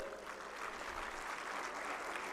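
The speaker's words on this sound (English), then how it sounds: "can we applaud all the jury members?" Steady, dense applause from an audience at a hackathon valedictory ceremony, honouring the jury members; a continuous wash of clapping with no pauses and no speech over it.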